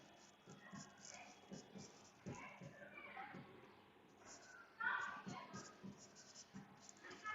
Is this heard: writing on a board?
yes